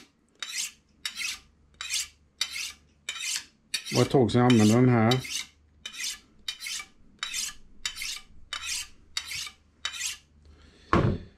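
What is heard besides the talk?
sharpening kitchen knives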